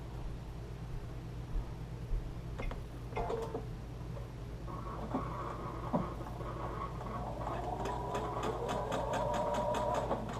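Sewing machine stitching quilt pieces with a 1/4 inch piecing foot, a steady close mechanical whir with fast ticking needle strokes that speed up toward the end, running alone without talk.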